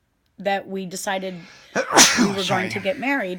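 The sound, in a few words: sneeze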